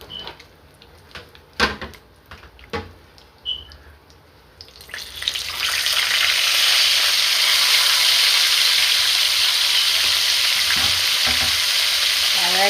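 A salmon fillet frying in a pan: a few scattered clicks and knocks, then a loud, steady sizzle starts and holds close up to the end.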